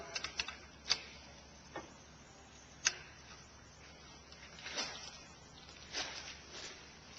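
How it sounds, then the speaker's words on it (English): Ratchet on a 14mm socket turning the belt tensioner of a 2004 Honda Accord EX, a few sparse faint clicks and ticks spread across a quiet stretch, no talking. "Release the belt tension with a 14mm socket."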